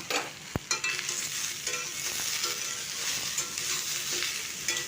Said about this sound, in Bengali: প্রথমে জিরা ধনেকে খুব ভালো করে মিশিয়ে নিচ্ছি